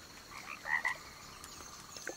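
Frog croaking in the PlayStation 3 game Risen 2: Dark Waters, a few short raspy croaks near the start, moderately close over quiet ambient background, with no voices.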